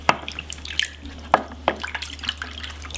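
A geoduck is rinsed in salt water, with light splashes and scattered drips close by, separated by short pauses over a faint hum.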